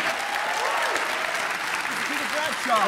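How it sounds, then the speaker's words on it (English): Sustained audience applause fills a hall at the International Film Festival Rotterdam, dense and steady throughout, with a few voices and cheers rising through it near the end. "ladies and gentlemen, keep on applauding"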